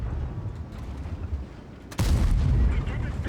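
A tank shell in a video game bounces off a tank's cupola with a sudden loud boom that cuts through the rumbling engine and battle noise, followed by a sustained heavy roar.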